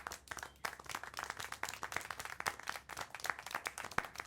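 Steady rapid clapping in the game Syberia 4, a dense patter of sharp hand claps continuing throughout at moderate volume, like a small group applauding.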